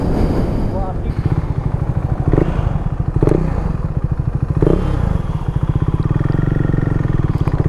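A KTM Duke 390 motorcycle fitted with upgraded tyres is ridden, its single-cylinder engine a steady, close, pulsing drone with a few clatters and thumps, while a voice talks faintly underneath.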